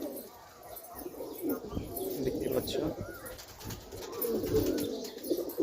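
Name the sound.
pigeons cooing in their loft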